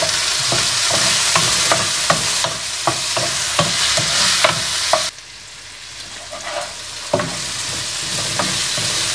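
Chopped tomato goes into a frying chicken dry dish and is stirred in: loud, steady sizzling with a quick run of spatula scrapes, then the frying drops quieter halfway through as stirring continues more sparsely.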